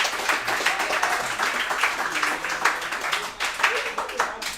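An audience at a restaurant celebration for two high school lacrosse players gives a round of applause, dense and sustained clapping with voices mixed in throughout.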